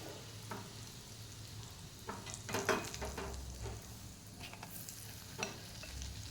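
Smoking-hot oil poured into flour dough for puris crackles and sizzles, with a few louder bursts of hissing spatter and some stirring against the bowl, heard close and fairly quiet with no talk.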